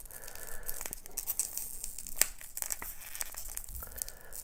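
A glued Marvel figurine packet from a Carrefour Market promotion is pulled open by hand, making quiet, close crinkling and tearing of packaging in uneven bursts with a sharper rip near the middle, and no talking.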